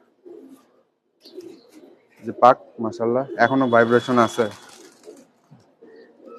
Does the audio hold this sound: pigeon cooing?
yes